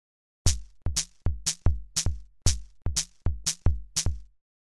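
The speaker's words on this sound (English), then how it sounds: "We could have 5 against 4, which sounds like this." Two interleaved percussive click patterns play a 5 against 4 polyrhythm, with sharp, evenly spaced hits of two slightly different timbres overlapping in a steady cycle, close and clear with no voice.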